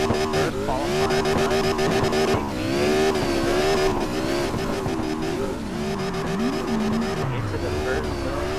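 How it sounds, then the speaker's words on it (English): A car drifts with the e-brake pulled in the CarX Drift Online racing game during a competition qualifying run, the engine revving loudly and steadily with shifting pitch and tire squeal throughout. "into the first zone, grabbing that e-brake, filling that line, almost painting it"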